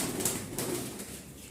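Faint, muffled cooing from a domestic pigeon kept for flying, a single short soft call against low background noise.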